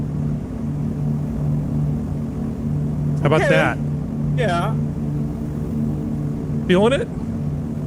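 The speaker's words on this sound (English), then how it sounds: "How about the sound of the engine noise of a B-17 bomber?" B-17 bomber engine noise plays as a steady, low droning rumble with a constant hum, while people briefly talk over it.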